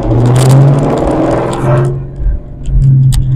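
A 2004 Procharged Mustang Mach 1 pulls away, its loud engine note rising in pitch then dipping and climbing again, close by with no talk.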